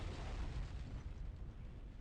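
Explosion in the stealth shooter game No One Lives Forever, a low rumbling blast that rolls on and gradually fades over about two seconds, heard without talk.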